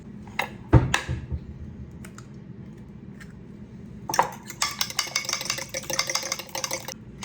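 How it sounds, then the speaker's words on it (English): Metal utensil clinks and taps against a pot, then a quick, continuous clattering whisk as eggs are beaten briskly in the pot. "I'm just gonna kind of beat them a little bit in this already dirty pot"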